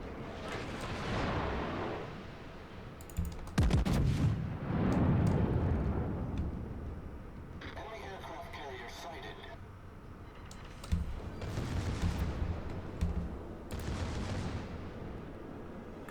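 Secondary guns on a warship in World of Warships, the battleship Ohio, firing in repeated booming bursts with rumbling blasts spread across the clip, under game sound.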